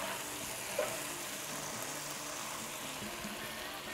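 Fried shallots stir-fried in oil for sesame oil chicken rice, giving a steady close sizzle with light stirring throughout, without talk.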